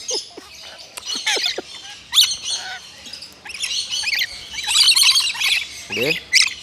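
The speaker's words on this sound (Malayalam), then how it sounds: "അവിടെ ഇവിടെയും കിളികളാണ്" Harsh squawks and chirps from several exotic pet birds burst out repeatedly close by, overlapping in busy clusters with brief gaps between them.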